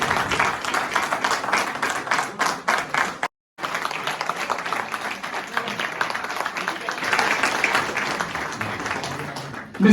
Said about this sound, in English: Ladies and gentlemen, applause for the